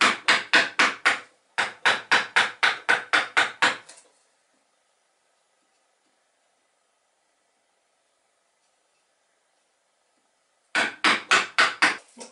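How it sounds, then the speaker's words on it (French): A chisel is struck repeatedly to cut out a wooden mortise for a small model boat. Sharp, evenly spaced knocks come in two close runs, then a long silence, then a final quick series of blows. "avec un ciseau un peu plus étroit, on creuse la mortaise"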